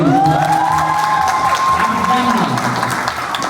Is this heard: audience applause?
yes